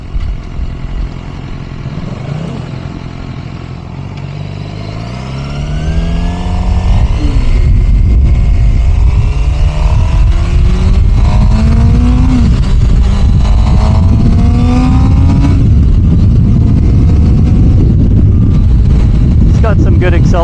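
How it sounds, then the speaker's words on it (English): A Suzuki GSX-R motorcycle on a country ride winds up through the gears with rising, loud engine pitch sweeps and heavy wind rush, starting from a lower cruise before accelerating hard, with talk over it. "Got some good acceleration on his motorcycle too"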